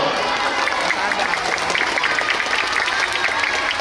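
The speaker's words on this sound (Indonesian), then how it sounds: "tepuk tangan dulu" Elementary school children clap together at a morning school event with police, producing a steady, close burst of dense applause that lasts the whole moment, with faint voices mixed in.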